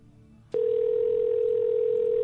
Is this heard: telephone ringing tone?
yes